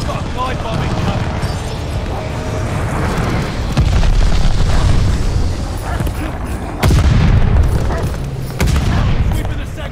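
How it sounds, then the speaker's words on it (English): Airstrike explosions in the multiplayer shooter Call of Duty: Vanguard, played on the Berlin map: heavy booming blasts hit near the 4, 7 and 8.7 second marks over continuous battlefield rumble, with a voice speaking throughout. "Teammate called an airstrike."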